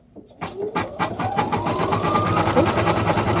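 An embroidery machine stitches royal blue feather tips on a felt mask, starting with a rapid, steady mechanical chatter as the motor whirs up in pitch and then settles into a continuous close, loud run.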